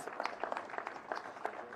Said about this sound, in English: Can we give him some rounds of applause?